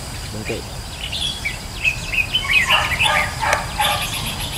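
Birds flying overhead outdoors give a flurry of quick, bright chirps and tweets that cluster in the middle of the stretch, moderately close above a low background rumble, with no one speaking.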